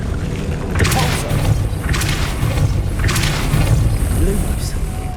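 Depulso spell pushes in Hogwarts Legacy land as repeated whooshing thuds about a second apart, fairly loud and close over a rumbling, watery game ambience.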